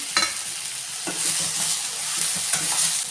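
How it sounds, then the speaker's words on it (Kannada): Mutton pieces fry in oil over a full flame for a mutton sambar, giving a steady bright sizzle broken by a few spoon-scraping stirs in the pan. "ಫುಲ್ ಫ್ಲೇಮಲ್ಲಿ ಅಲ್ವಾ ಬೇಗ ಬೇಯ್ತಾ ಇದೆ ಇದು ಫ್ರೈ ಆಗ್ತಾ ಇದೆ"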